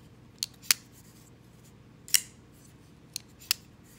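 A Gen 2 Hinderer Half Track Spanto folding knife opening and closing, giving sharp metallic clicks in small clusters, two close together, then one, then another pair, crisp and near against a quiet background.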